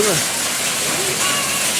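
Water keeps falling after a hail storm, a steady broadband hiss of rain or runoff, close and continuous, with someone talking over it.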